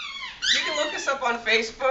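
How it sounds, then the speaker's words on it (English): A dog squeaks and whimpers in short, high, rising yelps that come in quick bursts, heard up close beneath a person talking. "That's our dog squeaking in the background."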